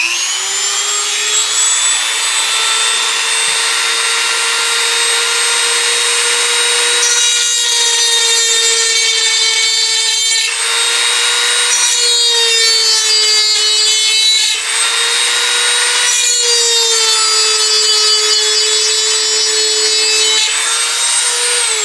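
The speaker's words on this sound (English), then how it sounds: "It's a spiral attachment. You can get it at Lowe's. But I'm going to make the groove with it." A rotary power tool fitted with a spiral cutting bit carves a groove into wood, a loud, steady high-pitched whine and grinding rasp that rises and dips in pitch as it bears into the workpiece, continuous and close with no talking.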